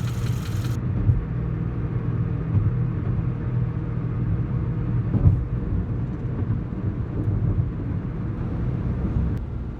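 A car driving on the road, heard from inside as a low, steady rumble of engine and road noise, fairly quiet and even, with a few soft thumps along the way.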